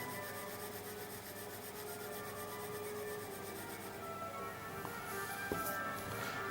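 Pencil shading on paper while drawing shadows for a house in oblique conic perspective, a faint close scratchy rubbing in quick repeated strokes, alone without talk.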